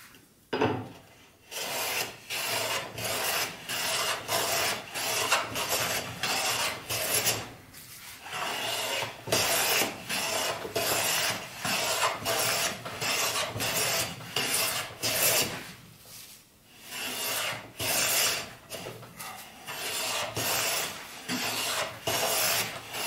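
A hand plane flattens a wood surface by hand, taking fine cuts. Long rasping shaving strokes repeat steadily and close up, each pass separated by a brief pause, with no talking.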